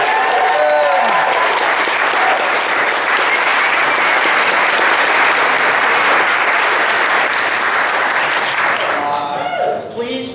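An audience at a city council debate in a theater gives sustained, loud applause for about ten seconds to welcome the candidates, then the clapping tapers off at the end.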